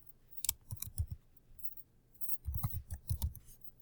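Computer mouse clicking in short bursts, a few sharp clicks, then a pause, then a quicker cluster of clicks, close and clear with no talk.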